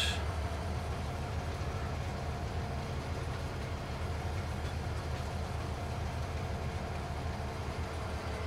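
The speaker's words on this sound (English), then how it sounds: "So let's tap to the train." A continuous low rumble of a moving train in the video game Farming Simulator 22, with steady rolling noise, unchanging throughout and without speech.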